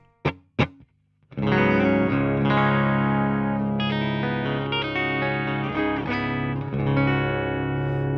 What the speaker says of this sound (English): That was the bypass sound,